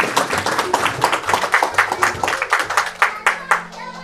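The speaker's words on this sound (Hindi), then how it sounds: "तालियां तो नहीं मारनी चाहिए।" Audience applause at an evangelical church sermon, with a rapid burst of many hands clapping at a steady, loud level before thinning out toward the end.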